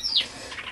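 A young pet lovebird, about two months old and alone in its cage, gives a short high chirp, bright and close, with nothing else around it.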